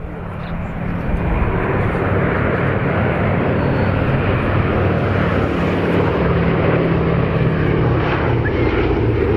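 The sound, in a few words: WWII warbird aircraft flying: B-17, P-47, P-51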